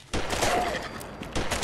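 Quick volley of gunshots in Fallout 4, several sharp loud cracks fired in fast succession within a moment, close and without talk over them.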